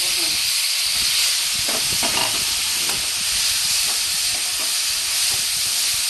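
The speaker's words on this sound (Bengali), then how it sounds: "উচ্ছেটাকে বেশ ভালো করে ভেজে নেব" Bitter gourd frying in a wok of hot oil with turmeric gives a steady, close sizzle and hiss with a few faint stirring scrapes, heard alone without talk.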